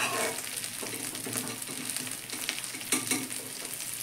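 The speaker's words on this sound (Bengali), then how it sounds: "মশলাগুলো একটু কষে নেব।" Whole spices fry and get stirred in a pan for a dal with kalmi greens, arhar and moong, giving a steady close sizzle with occasional scraping stir strokes and no talking.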